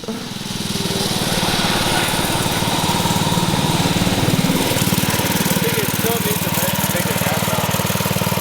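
A small mini bike engine runs after a rebuild, putting out a steady, close, low putter that swells slightly in the middle and holds at an even idle-like pace.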